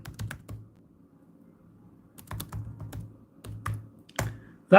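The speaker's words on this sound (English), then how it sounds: "Hang on, I'll type in the chat here" Someone types in short bursts on a computer keyboard while streaming a train simulator, with close, crisp key clicks and brief pauses between runs of keystrokes.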